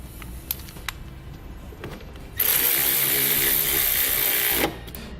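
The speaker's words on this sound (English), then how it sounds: "Slide our ring terminal over and replace the nut." Nut run down over a wiring ring terminal on a 2016 Dodge Journey with a 15mm socket, a few light clicks and then a loud steady whirring burst of about two seconds, close by, before it stops.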